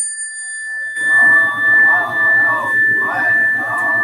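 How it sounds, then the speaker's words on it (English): A meditation chime rings out as a steady sustained tone that hangs over soft background music, which swells and fades in slow waves beneath it. "And now here's the chime."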